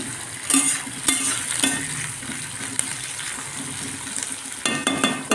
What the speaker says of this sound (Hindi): मीडियम ब्राउन हो रही है तक इसे प्याज फ्राई होने दूँगी